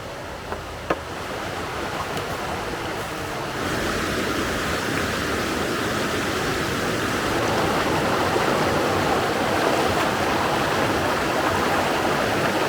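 The Koberberg stream in Norway rushes steadily just before a small bridge, a dense broadband wash of flowing water that holds constant and grows slightly fuller partway through, with no voices.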